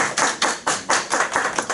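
A church congregation claps in loud, steady rhythmic unison, about eight even beats close by with no talking.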